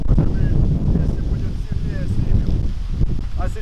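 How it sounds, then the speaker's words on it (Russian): Strong wind buffets the microphone in a continuous low rumble outdoors at an apiary, with a person speaking faintly under the gusts. "на дворе ветер дует сильный"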